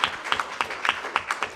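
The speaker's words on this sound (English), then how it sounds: "So I think this is worth a little short applause." Brief, sparse clapping from a conference audience at a talk on combating disinformation, a handful of distinct claps in quick succession.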